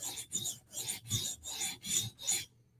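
A Chris Reeve Sebenza tanto knife is drawn across a sharpening stone in seven even, rhythmic rasping strokes, close and clear, ending in quiet.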